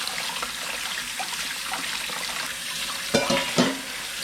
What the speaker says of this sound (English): Pour some cold water in right away to stop the cooking.